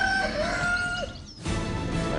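A chicken crows once, loud and close: a long drawn-out cock-a-doodle-doo with a rising then falling tone, followed by steady background noise and no speech.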